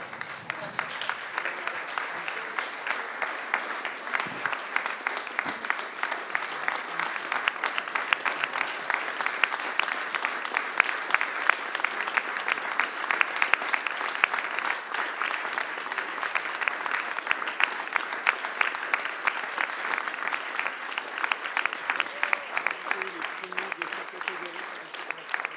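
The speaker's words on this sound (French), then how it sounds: "Je vous propose de les applaudir quand même" A French cycling award ceremony audience applauds at length, a sustained, even patter of many hands lasting over twenty seconds with a faint murmur beneath.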